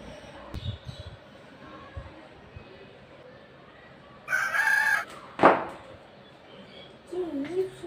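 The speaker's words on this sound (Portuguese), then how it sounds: "O galo deu um susto." A rooster crows loudly and close by in a single sharp call, preceded and followed by bursts of indoor noise and movement.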